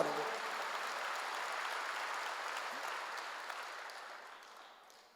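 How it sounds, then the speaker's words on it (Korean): A church congregation in a worship service claps together in a sustained, even round of applause, heard from a slight distance and fading gradually over about five seconds. "그 하나님을 의지하고 그 하나님에게 입맞춰야 여러분에게 요동하지 않는 걸 믿으시고 박수하세요."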